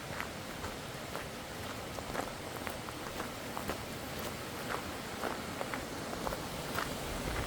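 Footsteps crossing a wooden footbridge on a forest trail in a woodland park, a steady series of light, fairly close steps over a constant background hiss.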